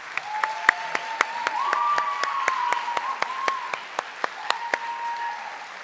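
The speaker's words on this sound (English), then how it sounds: "Big round of applause for cast and crew of Snow Angel." Applause from a small audience at a school board meeting honoring the cast and crew of Snow Angel, with several distinct loud claps standing out over a steady patter of hands.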